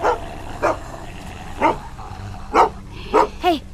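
A dog barks in The Walking Dead video game, six short yips and barks spread unevenly across a few seconds. They sound fairly close and come over a quiet background, with no talk.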